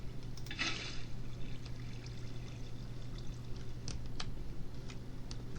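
Water flows in a Minecraft sugarcane farm with a steady, soft pouring trickle over a low hum, faint and continuous with a few small clicks, no talking.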